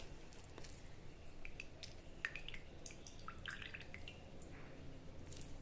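Hot cooked dill greens squeezed by hand over a tray, water dripping in scattered faint droplets against a soft hiss of background noise, quiet and close.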